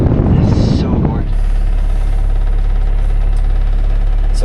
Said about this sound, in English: So why is the engine on?